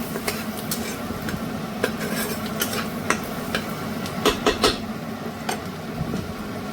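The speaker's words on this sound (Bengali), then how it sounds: "কড়াইতে তেলটা গরম করে একটু রসুন কুচি দিয়ে দিলাম।" Chopped garlic sizzles in hot oil in a wok, a steady frying hiss with scattered clinks and scrapes of a utensil stirring, close by and moderately loud.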